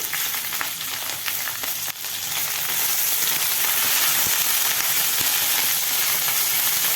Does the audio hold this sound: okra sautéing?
yes